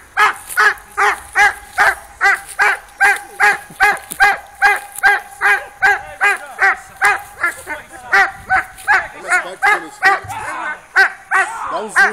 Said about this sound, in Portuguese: Esse cachorro é muito louco.